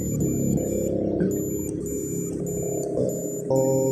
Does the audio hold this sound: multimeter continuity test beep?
yes